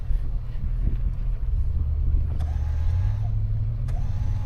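Car tires spinning in deep blizzard snow, heard as a steady low engine drone and whirring churn with wind rumbling across the microphone throughout.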